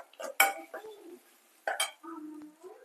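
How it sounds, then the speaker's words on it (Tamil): A spoon scraping and clinking in a pan while ginger garlic paste is sautéed with onions, a few sharp metallic scrapes and knocks separated by brief quiet gaps, close by, with only faint sizzling. "இந்த அளவுக்கு வெங்காயம் வதங்கினதுக்கப்புறம் இஞ்சி பூண்டையை நல்லா வதக்கி விட்டுட்டு"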